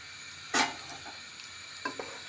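Liver singara filling stirred in a frying pan, a sharp scrape of the spoon followed by soft sizzling and a second quieter scrape, close and alone.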